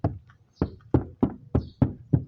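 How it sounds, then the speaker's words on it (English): Seven evenly spaced knocks on a car door panel, close and hollow, tapping out a steady rhythm while hunting for a rattle. "when tapping the door"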